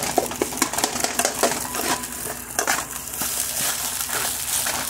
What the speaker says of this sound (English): You keep stirring that rice